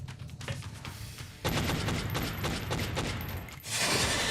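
Gunfire in the turn-based strategy game X-COM: Enemy Unknown: a quick run of sharp, loud shots fires in a burst after a short lead-in, then breaks into a brighter crash.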